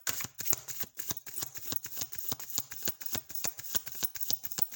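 Tarot cards are shuffled by hand in quick, rapid riffles, a dense run of crisp papery flutters and soft taps that repeat evenly, faint but close, with no voices.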